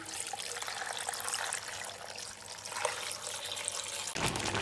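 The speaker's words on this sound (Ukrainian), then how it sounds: "Добавляю 2 літра води." Two litres of water pour into a pot for apple jelly, making a steady, soft splashing stream that shifts slightly in tone near the end.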